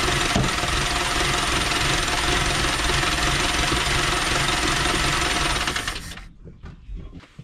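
Dodge Ram mini truck engine running with a fuel leak, a steady close rumbling idle with a rattly knock that cuts off after about six seconds, leaving faint handling noises.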